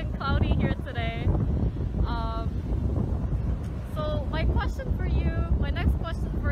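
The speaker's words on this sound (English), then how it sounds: "it's really windy and cloudy here today" Heavy wind buffets the microphone with low rumbling gusts throughout in Gangwon, Korea, while voices talk intermittently over the roar.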